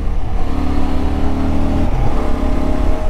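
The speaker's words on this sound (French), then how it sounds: "Alors je vais accélérer un petit peu." 2024 Honda XL750 Transalp accelerating on an open road, heard from the rider's position as a loud, steady engine drone with rising tones over heavy wind rush, with no talking.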